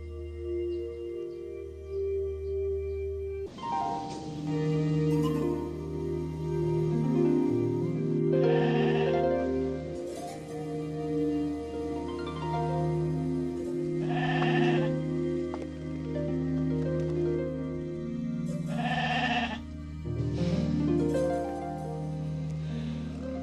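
A goat bleats repeatedly, loud and near, with several drawn-out wavering cries spaced a few seconds apart over a low steady hum.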